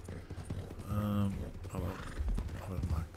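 A horse in the video game Red Dead 2 whinnies loudly in the middle while hooves clip-clop around it, and someone talks over the sounds.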